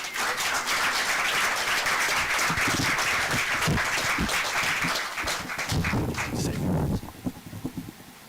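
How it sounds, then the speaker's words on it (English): A crowd at a board of education meeting claps loudly and continuously for about seven seconds before the applause breaks off into a few scattered claps. "Let's give Mr. Stotts another round of applause,"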